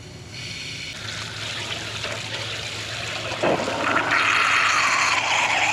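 Water pumped by the impeller of an outboard motor's lower unit spurts out of a hole, a steady splashing trickle that grows louder and fuller near the end, heard close with no talking.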